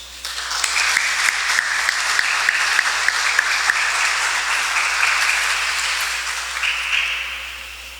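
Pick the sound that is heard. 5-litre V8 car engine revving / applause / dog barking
applause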